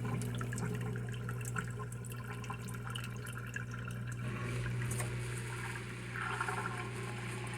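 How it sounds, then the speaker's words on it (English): A steady low motor hum with water gurgling and trickling over it as the small drain pump of a Hava R01 countertop dishwasher drains, continuous and close. "It's draining your water just like it would if it ended the cycle."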